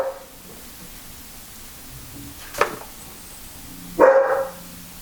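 A dog named Brody gives two separate barks indoors, a short one near the middle and a louder, longer one near the end, against a quiet background.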